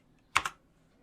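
Two quick keystrokes on a computer keyboard, close and crisp, tapped in fast succession as a website address is entered, standing alone in an otherwise quiet room.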